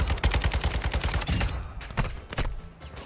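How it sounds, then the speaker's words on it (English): Heavy automatic gunfire in Modern Warfare 3. A fast, dense burst of close shots gives way to scattered, sparser bursts and single shots. "Shooting me through walls, the enemies, yeah."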